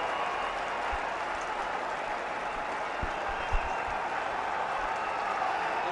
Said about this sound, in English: Wildly appreciated by the crowd that's here in Rawalpindi today